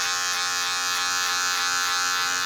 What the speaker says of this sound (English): I can always go back and cut more hair off